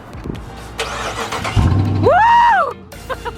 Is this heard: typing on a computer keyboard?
no